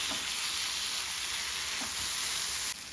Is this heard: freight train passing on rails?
no